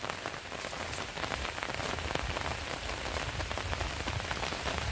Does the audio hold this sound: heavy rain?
yes